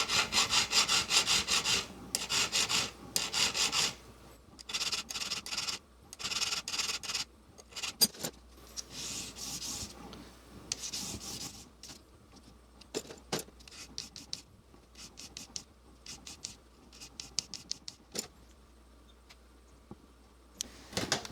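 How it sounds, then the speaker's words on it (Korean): A fine file is drawn over a small metal square diamond frame for jewelry, making repeated scraping strokes in a quick rhythm that grows sparser and softer later on, heard close with no talking. "고운 줄로 다듬어 주겠습니다."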